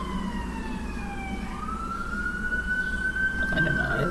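An emergency vehicle siren wails in the background of a New York street, its tone sweeping slowly in long rising and falling glides over steady traffic rumble, clear though not close.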